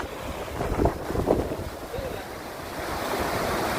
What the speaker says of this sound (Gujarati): મારા ગામની ઉમૈયા નદી તમે જોઈ શકો છો સરસ મજાની ઉભરાઈ ગઈ છે